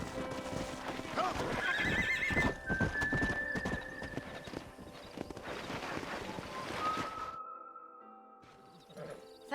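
Horses on a ranch in the western game Red Dead Redemption, with a loud close whinny and repeated clip-clopping hooves over wind and ambient noise, then a quieter tail.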